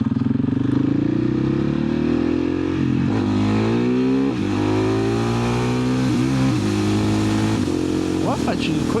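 A KTM 690 SMC single-cylinder motorcycle accelerates hard and loud, engine pitch climbing through several quick-shifted gears, with wind noise and a voice talking over the ride.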